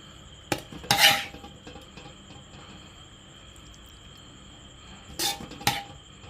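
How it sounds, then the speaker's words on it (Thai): A metal spatula scrapes stir-fried pork with holy basil out of a pan onto a plate, in two brief clusters of clanking and scraping, one near the start and one near the end, with quiet between. "เดี๋ยวตักใส่จานเลย"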